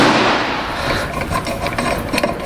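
A 1-1/8 inch socket undoes the front hub nut on a 1981 MGB GT, giving a close, harsh scraping rasp of metal turning under strain across the short clip.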